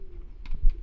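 A single short coo from a racing pigeon, close and fairly loud, with a low throaty rumble and faint background noise.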